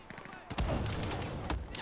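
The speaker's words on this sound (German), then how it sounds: "hier explodiert gerade alles" Battlefield 4 explosions and gunfire land as two sharp, heavy bursts amid a constant dense roar of battle, all fairly close and loud.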